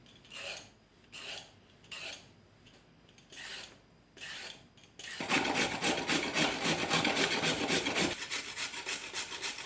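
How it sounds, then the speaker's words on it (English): Peeled carrots are grated on the large holes of a grater, first in five separate rasping strokes, then in a fast, continuous scraping run that stays close and fairly loud, with no speech. "use the large holes on a grater to get them fine enough to be distributed in the mix evenly"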